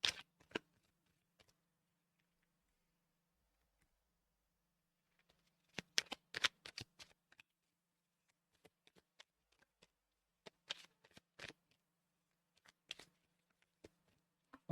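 Tarot cards being shuffled, heard as quiet, close riffling flutters and soft taps in a few short bursts separated by near silence.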